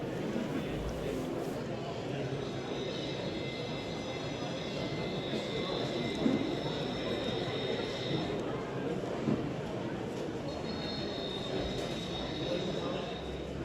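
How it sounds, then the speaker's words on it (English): N gauge model steam and diesel trains running on track at a model railway show, a rumbling clatter of wheels with occasional squeals and higher whining tones, steady over a long stretch, with voices faintly present. "the steam engines arrive with a passenger train, a diesel departs with some logs"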